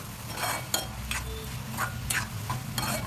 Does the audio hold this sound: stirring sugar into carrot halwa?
yes